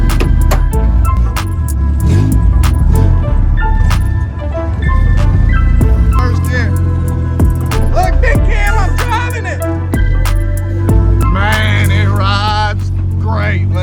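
Engine note of a Honda CRX with a check-engine fault, driving under its own power for the first time, running steadily close up and rising and falling with gear changes while people talk and cheer over it.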